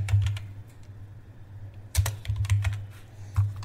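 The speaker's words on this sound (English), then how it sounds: "And then again go to search bar, type your power plan." Typing on a computer keyboard into a search bar on a low-end PC, close and clear, with a short burst of keystrokes, a pause, then two more quick flurries of clicking keys and no talking.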